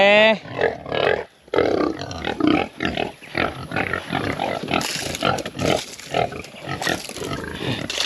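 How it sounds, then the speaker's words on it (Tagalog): Free-range pigs grunt and squeal in short bursts close by, with a few voices speaking among the animal noises. "mga baboy natin, pumapasok lang sila dito pag kumakain"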